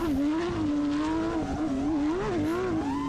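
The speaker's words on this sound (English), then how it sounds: "And here's Thomas Anacleto, the French driver with the Porsche." A Porsche rally car drives a stage of the Rallye de Wallonie, its engine loud and close with a sustained, wavering note as revs rise and fall through the run, no talk over it.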